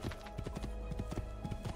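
Hooves clip-clop in a quick, even rhythm as a horse gallops in the Assassin's Creed 2 video game, the beats close and loud over a continuous game backdrop.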